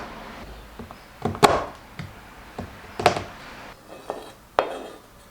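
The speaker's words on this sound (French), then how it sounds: "je vais ajouter environ 2 carrés de chocolat que je vais couper en morceaux." A knife chopping squares of chocolate into pieces on a board, several irregular crisp knocks and cuts spaced apart, close and fairly loud.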